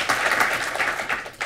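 A conference audience at UCLA breaks into applause, a dense, bright wash of many hands clapping at once that holds steady throughout, swelling briefly near the end, with no voices on top.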